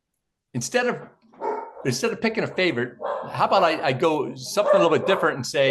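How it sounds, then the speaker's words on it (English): A dog barks repeatedly in the background, several sharp yaps mixed in under someone talking steadily close to the microphone. "excuse my dog in the background."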